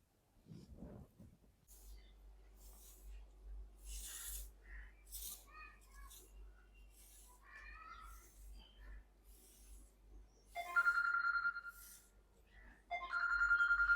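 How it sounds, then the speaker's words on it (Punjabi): A phone ringtone plays a repeating melodic pattern of chiming tones over a low steady hum, growing louder toward the end. "ਕਿਹਦਾ ਫੋਨ ਆ ਗਿਆ ਵਾ ਵੇਖਾਂ ਸਹੀ"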